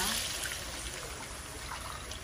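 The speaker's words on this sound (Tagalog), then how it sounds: "Lagyan na natin ng tubig mga Mars." Water poured into a cooking pot of vegetables for sinigang, a steady close splashing trickle running throughout.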